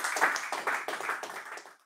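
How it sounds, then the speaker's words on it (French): Church congregation clapping during a Sunday intercession prayer service, a brief burst of bright, close hand claps with a loosely rhythmic pulse, fading out by the end. "On applaudit pour Jésus"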